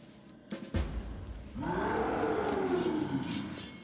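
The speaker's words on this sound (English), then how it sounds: "a terrible roar thunders up from the depths of the Fane." A deep, rumbling demon roar from a Balor in Pathfinder: Wrath of the Righteous swells up after a sharp thud and rolls on loudly and steadily, sounding huge and cavernous.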